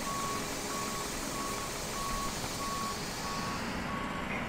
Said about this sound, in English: Passengers bus is coming.